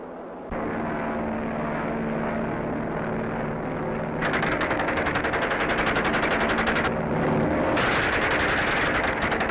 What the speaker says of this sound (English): Here they go to machine gun a target on the ground.